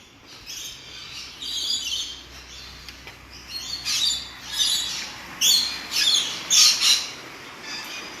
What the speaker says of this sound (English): I know a lot of people like the birds.